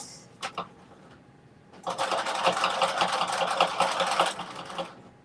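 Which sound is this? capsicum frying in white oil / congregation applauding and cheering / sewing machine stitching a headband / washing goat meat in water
sewing machine stitching a headband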